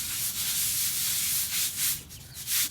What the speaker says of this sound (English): Give it a really good scrub.